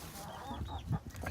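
Backyard chickens cluck softly nearby, a few brief low clucks and one louder squawk-like note, faint and close, with no talk.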